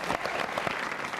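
Brief applause from a television studio audience for a band: a short, close burst of clapping hands, dense and moderately loud.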